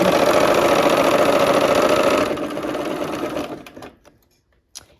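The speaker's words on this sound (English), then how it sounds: "let's go ahead and sew this last seam" A sewing machine stitching the last seam of a quilt block for a barn quilt sampler runs loud and steady for about three and a half seconds, then slows and stops, followed by a few faint clicks.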